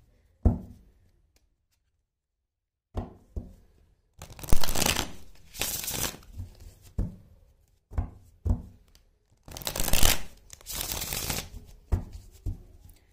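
Tarot cards being shuffled by hand in several separate bursts of riffling and slapping, close and fairly loud, with short quiet gaps between them and no talking.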